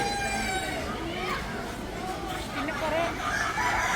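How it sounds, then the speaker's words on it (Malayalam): White chickens cluck and a rooster crows amid a busy outdoor mix at a Wayanad flower show, with people talking in the background. "വെള്ളക്കോഴികൾ"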